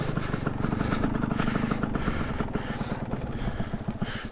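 A trail motorcycle rolls down a bank on a dirt trail, its engine giving a close, loud, rough burbling idle with some clatter throughout.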